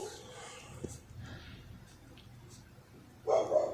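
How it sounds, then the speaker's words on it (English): A dog howls and barks indoors, with faint yips and whines early on and a louder bark burst near the end, while people talk over it. "And I got a howling dog."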